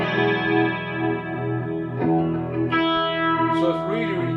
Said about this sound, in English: So you've got this pulsating chorus. If I turn the pedal on,